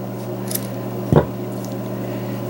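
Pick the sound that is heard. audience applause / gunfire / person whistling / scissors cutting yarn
scissors cutting yarn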